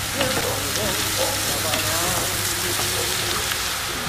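Grated vegetables for borscht sizzle in a frying pan, a steady, dense, close crackling hiss that carries evenly from start to end.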